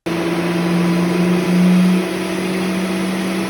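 A turbocharged Mercedes 3.2-litre M104 inline-six on a dyno drones at steady high revs, with a brief louder swell midway before settling back to a constant close, loud engine tone.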